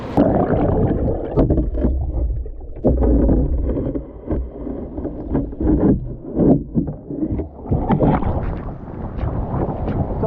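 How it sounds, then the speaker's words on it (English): White water rapids on a river run heading down toward Hospital Rock, a loud, churning rush with surging gusts and buffeting wind noise on the microphone. "So much good white water from here all the way down to Hospital Rock."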